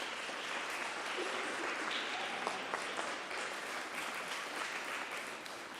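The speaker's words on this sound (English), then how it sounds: "Give yourselves a round of applause just for that." An audience of school participants at a video contest award ceremony applauds, a dense, even wash of many hands clapping at steady loudness for several seconds.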